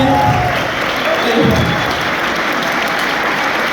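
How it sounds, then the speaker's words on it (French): An audience applauding steadily at the Grand Rex theater, a dense wash of clapping that holds at an even level, with a brief voice in the crowd near the start. "j'aimerais un tonnerre d'applaudissements pour Mathis"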